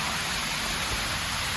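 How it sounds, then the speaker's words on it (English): Heavy rain pours steadily along the coast, a dense, even hiss with no breaks and no voices. "It started pouring rain."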